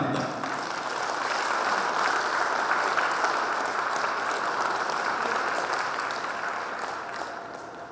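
An audience at a Korean hometown association's chairman inauguration ceremony applauds in a dense, steady burst of clapping that fades slightly toward the end.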